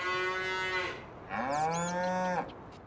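Two drawn-out synthetic video game cow moos from a livestock trailer, one after the other, loud and close with a brief pause between them and no talking.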